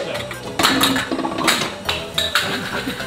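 Small pot and dishes clattering while an egg is cooked, several sharp metallic clinks and knocks in quick irregular bursts, close and fairly loud.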